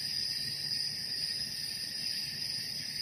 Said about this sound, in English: Crickets, I believe.